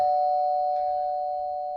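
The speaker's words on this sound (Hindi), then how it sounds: "रश्मि की डोरबेल बजती है।" A single sustained electronic doorbell tone rings steadily and fades slightly, with no talking.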